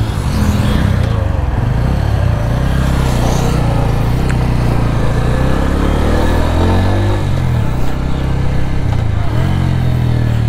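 A 2023 Bajaj Pulsar N150 motorcycle engine drones steadily while riding in first gear, a loud close-up rumble with pitch rising and falling as the throttle shifts, continuous throughout with no talk.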